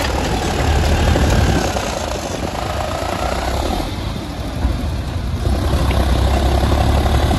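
A John Deere 4x4 tractor idles at a loading competition, a steady, loud low engine rumble running throughout with no talk over it.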